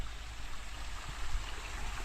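A stream flows steadily nearby in an outdoor spot, a soft continuous rushing and gurgling of water with no talking.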